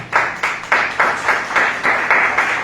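A church congregation claps in unison, eight or so loud, even rhythmic claps at a steady beat, close and without talk.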